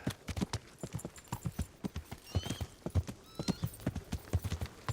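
Horse hooves clip-clopping in the medieval video game Kingdom Come Deliverance, a quick, uneven trot of close, distinct hoof strikes with a brief whinny partway through.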